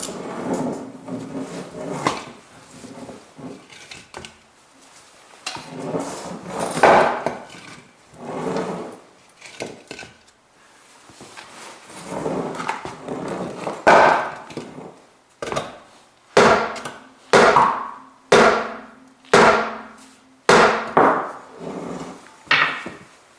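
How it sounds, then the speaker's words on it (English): A big hammer and sledge pound on an overtightened wheel bolt, a series of loud, sharp metallic blows, irregular at first and then a fast, regular run of strikes. "now I am hitting in this another side with my big hammer and sledge"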